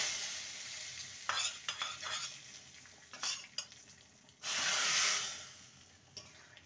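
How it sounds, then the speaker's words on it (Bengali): A hot tempering of dried red chillies and bay leaf in oil is poured into moong dal with winter vegetables, setting off a loud sudden sizzle between bursts of spoon scraping and clinking against the pot. "ফোড়নটা ভাজা হয়ে গেছে, এবার এই ডালের মধ্যে ফোড়নটাকে দিয়ে দেবো।"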